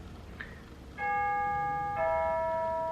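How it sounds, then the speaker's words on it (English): A home doorbell chiming two sustained ding-dong tones about a second apart, clear and ringing against quiet room noise after a brief faint sound. "Totally distracted there by the doorbell."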